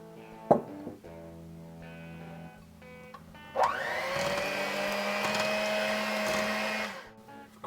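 An electric mixer whirs loudly and steadily for a few seconds while mixing pumpkin pie filling as pumpkin is added, after a quieter stretch with a thump and low hum, then winds down.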